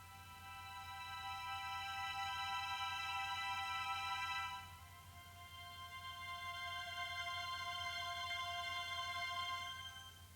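High-pitched sustained orchestral strings holding bright stacked chords that shift once midway, soft and alone with no voices.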